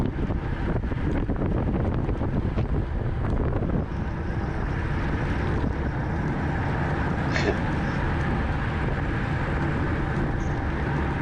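Strong crosswind roars steadily across the microphone of a cyclist riding in an echelon during a road race, a constant dense rush of wind buffeting with no clear voices over it.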